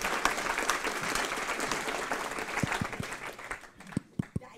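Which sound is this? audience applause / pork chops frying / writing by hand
audience applause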